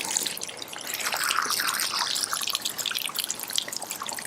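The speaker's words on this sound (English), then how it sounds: "You guys can see how the water is just sheeting" Hose water sheets off a 2017 C7 Corvette Stingray's coated body, a continuous near splashing and trickling wash that runs without voices throughout.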